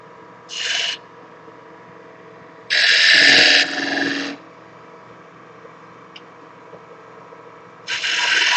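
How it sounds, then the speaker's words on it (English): Spindle gouge cutting a tenon on a turning workpiece on a wood lathe: three separate bursts of scraping, hissing cutting, one short, one longer and heavier, and one starting at the end, over a steady low lathe hum. "I'm going to switch to my spindle gouge, and I'm going to start working on putting a tenon here"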